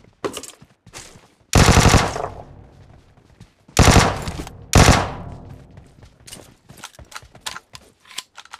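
Video game gunfire from an M4-type rifle: three loud, sustained bursts of rapid automatic fire separated by lighter scattered shots and clicks, with no voices.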